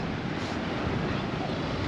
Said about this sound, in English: Bicheno, it's windy today.